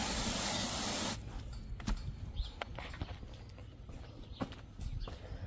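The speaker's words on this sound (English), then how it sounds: "We'll spray it down again." A spray bottle misting cleaner onto a dirty wheel, with one loud sustained hiss at the start followed by scattered sharp taps and handling noises.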